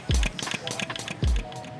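A runaway spray pump cavitates, cycling too fast without moving material: rapid, rhythmic thumping strokes with hissing, chattering bursts between them, close and loud.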